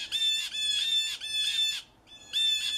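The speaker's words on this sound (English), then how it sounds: "The first being jeer calls, the loud, non-musical calls that are normally used as contact calls or flocking calls." Blue jay giving loud, harsh, non-musical jeer calls, three long rasping calls in quick succession, a brief pause, then a fourth, close and clear with no talk.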